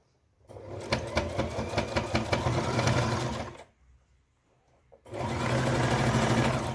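A sewing machine runs in two bursts of steady rapid stitching during a tailoring class, the first lasting about three seconds, then a brief pause before it starts again, loud and close with no talk over it.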